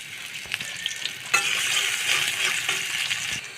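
Chopped onion sizzles steadily in hot soybean oil, a bright close-up hiss that swells after a sharp clank near the start.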